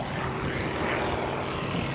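A propeller airplane flies past at a naval air base open day, a loud, steady engine drone with broadband rushing noise filling the whole moment.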